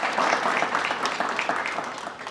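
A quiz-show audience claps for a correct answer, producing a brief burst of many overlapping hand claps that is dense at first and thins out toward the end.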